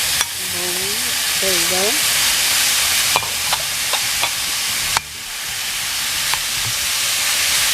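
Chicken fries in a pan with a loud, continuous sizzle, broken by a few sharp clinks and scrapes of stirring, while a voice speaks briefly early on.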